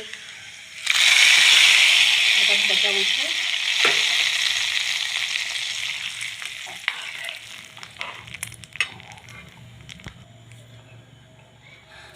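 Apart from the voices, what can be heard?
hot tempering (vaghar) poured over dal, sizzling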